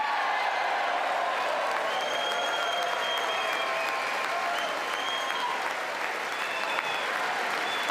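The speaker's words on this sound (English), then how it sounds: "more than half of the room is standing up and clapping, chanting jingoistically USA" Members of the United States Congress applaud in a large chamber, sustained dense clapping with a faint rhythmic chant of USA rising within the crowd noise throughout.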